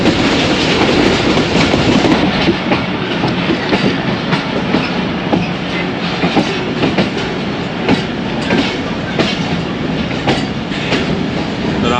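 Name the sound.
passenger train running on rails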